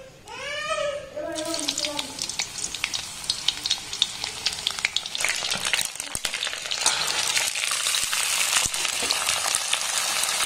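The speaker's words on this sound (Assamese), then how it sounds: "এতিয়া মই ইয়াত ভাজিম বুট আৰু আলু" Chickpeas and potatoes frying in a home kitchen pan, a continuous crackling sizzle that builds and grows louder after a brief opening, with scraping stirs and a voice talking over it.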